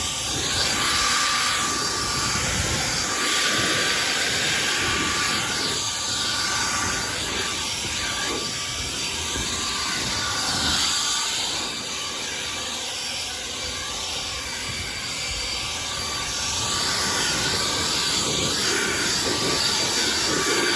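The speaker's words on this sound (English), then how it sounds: "then I get a blower." A leaf blower clearing autumn debris from gutter protection roars continuously, a loud broad airy rush close by that dips slightly in the middle and then builds again, with no voices.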